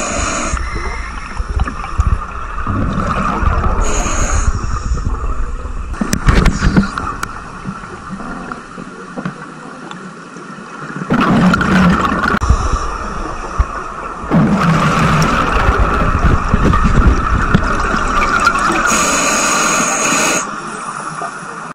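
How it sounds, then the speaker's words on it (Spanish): A scuba diver breathes underwater through a regulator in short, forceful, uncontrolled and noisy inhalations; loud bursts of breath and bubbling come in irregular surges with quieter gaps, no talking. "Así es como se reconoce una respiración automática bajo el agua. Inspiraciones cortas, fuertes, incontroladas y ruidosas"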